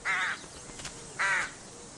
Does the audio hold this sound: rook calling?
yes